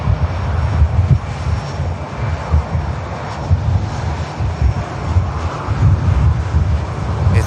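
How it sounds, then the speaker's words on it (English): A Jet2 airliner on final approach at Manchester Airport, inbound from Malaga: a steady, loud engine roar and rumble that fills the whole stretch with some wind buffeting, no voices. "Jet 273 on finals from Malaga."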